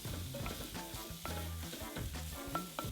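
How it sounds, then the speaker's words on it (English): Spring onions, ginger and minced garlic sautéing and being stirred together in a pan, a steady sizzle broken by repeated scrapes and knocks of the spoon, close and fairly loud, with no talk. "Then we're just gonna saute this, mix it together, get all those flavors combining and cook it down."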